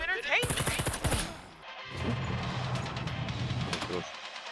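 Rapid bursts of gunfire in the video game SCUM, loud and close, followed by a lower rumbling engine-like drone with a few sharp clicks.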